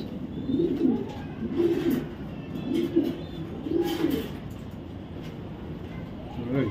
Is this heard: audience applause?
no